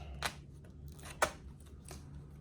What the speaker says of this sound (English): remove the tape from both flaps